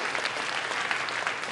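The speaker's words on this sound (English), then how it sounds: "Give another round of applause." Brief burst of dense audience applause at a mental-math lecture, a steady wash of many hands clapping at a moderate, even level.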